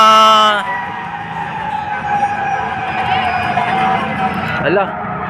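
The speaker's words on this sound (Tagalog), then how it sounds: "ang mga bombero ay mga fire truck ay nagsipaglabasan mga bayan" Fire truck sirens wail continuously along the Pasig River esplanade, loud and steady with rising and falling tones and some traffic rumble, while people talk nearby.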